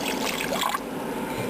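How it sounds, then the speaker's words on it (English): A cup of water poured into a pot of cooked mutton with separated oil before pressure cooking, a brief splashing trickle that fades after under a second, close by against a soft background hiss. "And here is a cup of water,"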